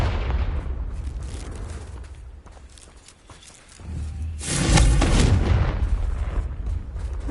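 A Confringo blast in Hogwarts Legacy, a loud booming burst that swells midway through a rumbling stretch of game noise, with a sustained roar trailing after it and no voices.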